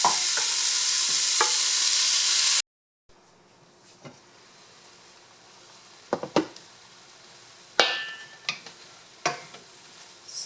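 Ground beef and onions cook in a pan over very low heat. A steady, loud sizzle plays at first, then gives way to a quieter background with scattered clinks and scrapes of stirring.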